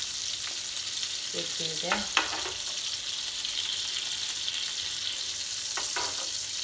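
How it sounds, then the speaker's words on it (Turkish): Sardines fry in a pan with a steady, bright sizzle and crackle that runs throughout, while a voice speaks briefly over it. "Diğer balıklarımızı da aynı şekilde kızartıp bunun tabağımıza almış olacağız."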